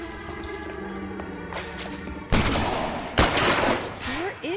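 Video game gunfire cracks out in sharp bursts over a busy layer of in-game effects and background sound, with a few loud close shots standing out.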